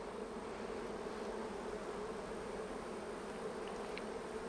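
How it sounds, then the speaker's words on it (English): Honey bees buzz steadily at a strong hive's entrance as they fly in with pollen, a close, dense, continuous hum of many insects with no voices. "Look at all these bees bringing in pollen."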